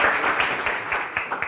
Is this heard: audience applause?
yes